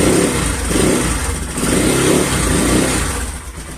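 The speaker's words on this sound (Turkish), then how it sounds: "Gaza bittirir misiniz?" Car engine revving steadily as the throttle is held, a loud, near, continuous rough drone with slight surges in intensity, heard alone without talk.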